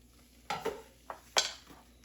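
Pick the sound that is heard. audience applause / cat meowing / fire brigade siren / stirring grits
stirring grits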